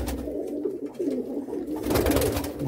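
Pigeons at a bird sale in Jammu coo steadily in a low, continuous murmur close by, a rolling throaty purr running through the whole stretch with no talk over it.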